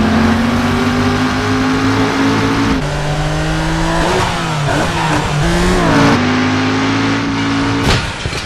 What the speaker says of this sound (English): We're going to get straight into a car chase between John Tanner and Jericho